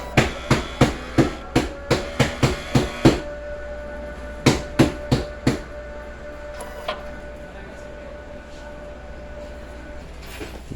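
A sublimation printer runs a head cleaning cycle, giving a quick series of sharp mechanical clacks in a steady rhythm, then a pause, then a few more knocks, over a faint constant hum.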